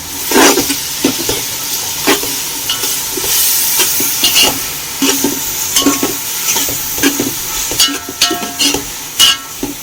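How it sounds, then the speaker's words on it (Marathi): Ginger, garlic, chili, coriander and mint paste sautéing with onions in a pan for prawn pulao, a loud continuous sizzle broken by repeated scraping stirs and spatula clicks, close up. "आलं लसूण मिरची कोथिंबीर पुदिना याची पेस्ट घालून घेते म्हणजे ह्या कांद्याबरोबर ती व्यवस्थित परतली जाईल"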